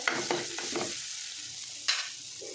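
Onion garlic masala being sautéed in a pan over a wood-fired stove, a close, steady sizzle broken by a few scraping stirs, with no voices.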